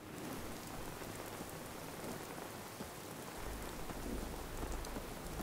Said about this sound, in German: Okay, Regen bei klarem Sonnenschein.